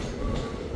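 A passenger train running between Bijapur and Bangalore through dense forest in Karnataka, heard from on board as a steady, loud rumble of wheels and carriage noise, with no voices.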